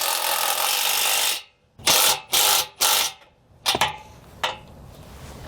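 Wrench and 17mm socket tightening the bolts on an RV bumper trailer hitch receiver: after a steady hiss, several sharp ratcheting bursts come close up and loud, one at a time with short gaps.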